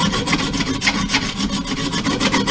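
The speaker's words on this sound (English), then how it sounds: "Get out your wood rasp." Steady back-and-forth rasping of a large wood rasp filing the battered head of a steel splitting wedge, close and loud, with rhythmic strokes repeating throughout and no talk.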